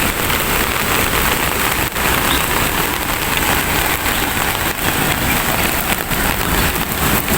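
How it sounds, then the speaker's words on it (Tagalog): Heavy rain pours steadily and loudly, a dense broadband hiss of drops drumming on surfaces throughout, with no voices. "grabe ulan"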